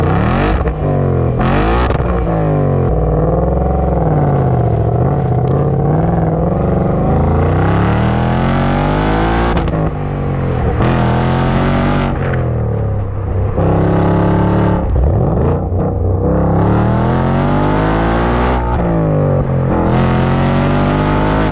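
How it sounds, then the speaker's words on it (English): A Ford Mustang GT's exhaust in racetrack mode revs hard and loud, rising and falling through repeated throttle blips with a deep, rumbling drone that stays close and dominant throughout, with no voices. "just take a listen to how the exhaust sounds"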